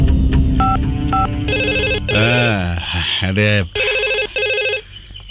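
A telephone call placed to a police station: several short dial tones, then repeated bursts of electronic ringing, loud and near, with a voice briefly speaking and music-like tones mixed in.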